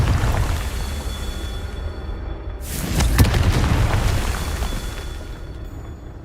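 A fiery Confringo spell from Hogwarts Legacy goes off in a single loud, broad blast near the middle, then rolls into a booming rumble that slowly dies away over the continuous game soundscape.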